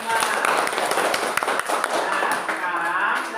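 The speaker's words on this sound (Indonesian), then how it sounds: "Tepuk tangan dulu untuk kelompok 5." A classroom group claps for group 5, a burst of quick, close hand claps from several children, with voices chattering underneath.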